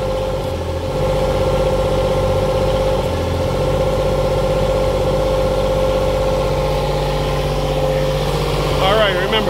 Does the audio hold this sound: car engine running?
yes